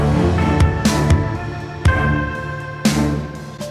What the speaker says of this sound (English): You can stack sounds like this in octaves